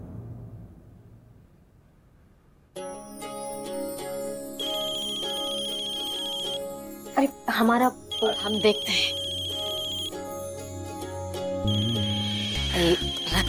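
A telephone rings in a household scene with a repeating electronic ringtone in steady bursts over music, and people talk over it.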